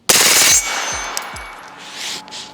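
An MP5 submachine gun fires a quick burst of about five close, loud shots in the first half-second, followed by fading echoes and a few smaller clatters.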